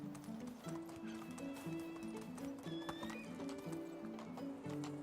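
Horse galloping in the video game Medieval Dynasty, a steady rapid clip-clop of hooves with a whinny, playing alone at moderate loudness.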